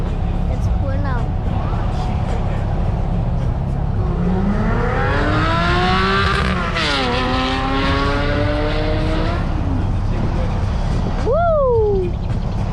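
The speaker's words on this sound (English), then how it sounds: "But let's go check that yellow Porsche right over there. It's pulling out." A yellow Porsche sports car pulling out at a supercar gathering at a Lamborghini dealership in Orlando, its engine rising in pitch through the gears over a loud steady background rumble, with someone talking throughout.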